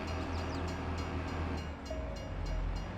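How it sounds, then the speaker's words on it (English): A train passing in the video game Farming Simulator 22, a steady low rumble of rolling wagons that holds loud and even throughout, with no speech over it. "I like this train"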